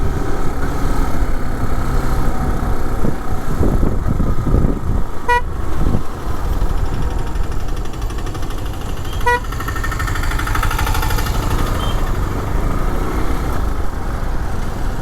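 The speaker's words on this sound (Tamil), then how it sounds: "பார்த்தோன்னா இங்கே இவ்வளோ டிராஃபிக்காக இருக்குது" Heavy road traffic on a hill road near Munnar, Kerala: a steady, loud wash of engines and tyres fills the scene, broken by two sharp car-horn toots, one early and one later.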